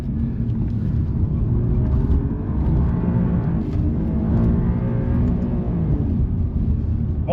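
Alfa Romeo Quadrifoglio drifting on a race track: a steady, heavy engine drone with rising and falling revs, heard from inside the car, loud and continuous with no talking.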